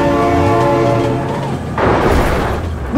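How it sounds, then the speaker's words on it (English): A loud train horn blares in long sustained tones while the rail cars rush past close by. A heavy rumbling clatter swells partway through, with no voices. "Oh my God, train!"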